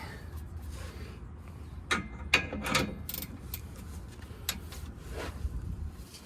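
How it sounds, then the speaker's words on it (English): A ratchet clicks in short bursts as a bolt is tightened on a Ford Mustang rear sway bar, sharp mechanical ticks rising over a steady low background hum. "we're gonna tighten that one back up and then loosen it again"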